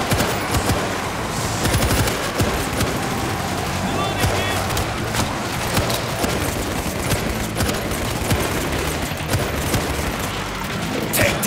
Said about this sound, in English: I set a stationary gun here.